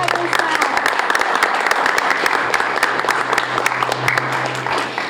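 A crowd claps and cheers for library staff at the reopening celebration of Oakland's Main Library, dense applause with sharp individual claps standing out close by and a low steady hum underneath.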